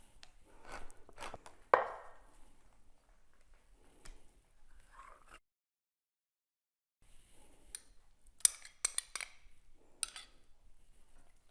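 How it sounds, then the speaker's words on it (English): Scattered knife chops of vegetables for Thai green curry on a cutting board, irregular and fairly quiet, with a short pause of near silence midway. "reduce it slightly while we're chopping our vegetables"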